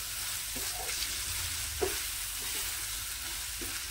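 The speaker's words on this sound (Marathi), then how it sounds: "सगळं वाटण मी घालून घेणार आहे आणि मसाला आहे ना चांगला कोट होईपर्यंत हे परतून घ्यायचे" Jackfruit pieces sautéed with ground spice paste in a pan, with a soft continuous sizzle and occasional stirring scrapes, fairly quiet and without voices.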